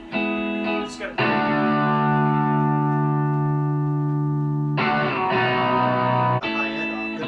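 Electric guitar played through a GlassCity tube amplifier fitted with a tungsten tube, sustained chords ringing loud and full with brief breaks between strums, close and alone.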